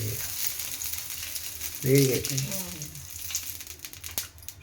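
Wheat-flour dosa-style batter sizzles faintly in a little oil on a pan, a soft steady crackle with a brief louder burst midway as a voice speaks briefly.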